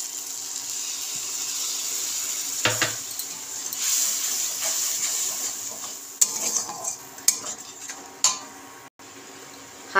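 Mustard, poppy seed and green chili paste frying in a pan, a crackling sizzle with stirring and sharp clanks of a spoon against metal, growing busier toward the end.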